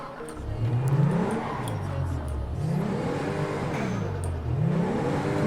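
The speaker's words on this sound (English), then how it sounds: "it's got the turbo and the blow off valve sounds" A revving video game car engine rises and falls in repeated sweeping pitch arcs, loud and close, with a whirring turbo tone and blow-off valve sounds running steadily throughout.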